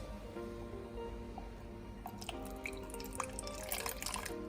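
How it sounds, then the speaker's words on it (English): Quiet water trickles and splashes into a bowl, beginning softly and growing into irregular drips and pours over a low background hum. "30 milliliters of warm water and pour in the bowl"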